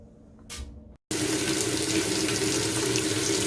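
Water gushing into a washing machine for a small laundry load of drapes, a loud steady rush that starts abruptly after a short quiet pause with a brief splash, continuing alone.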